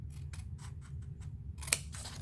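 Scissors snipping through fabric for a mask storage case, a series of soft, close, rhythmic cuts followed by a sharper click, quiet against faint background hum.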